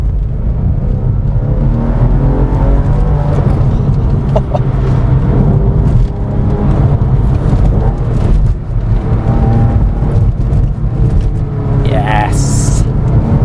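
Porsche 911 of the 996 generation heard from inside while driving, a steady loud engine drone with rising and falling whine as revs change, a voice talking over it for much of the time.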